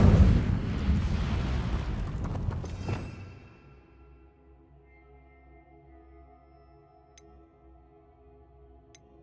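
An Incendio fire spell cast in Hogwarts Legacy: a loud whooshing, rumbling burst of flame that roars for a few seconds, then cuts away to a quiet, faintly humming background with a couple of small ticks.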